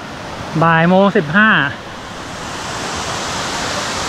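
An abundant waterfall at Salad Dai falls near Khao Hua Muak, a continuous broad roar of rushing water that grows steadier after a short burst of a man's speech near the start.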